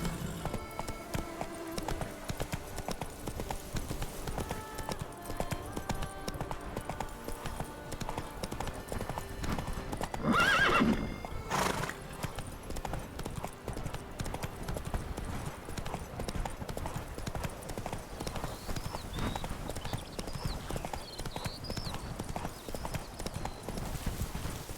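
Roach the horse in The Witcher 3, hooves clip-clopping steadily over ground at an even walking rhythm, close and clear, with a louder clattering moment midway and no talk.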